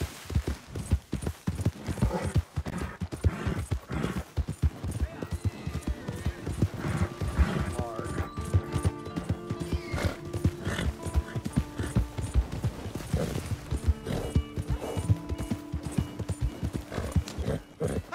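Horse hooves clip-clop steadily in Red Dead Redemption 2, the rhythmic footfalls running throughout amid busy game sound, with occasional whinnies and faint voices.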